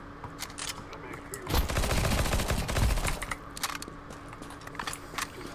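P90 submachine gun fire in Counter-Strike 2: a sustained rapid burst lasting a couple of seconds in the middle, loud and close, with quieter game noise and a few clicks before and after.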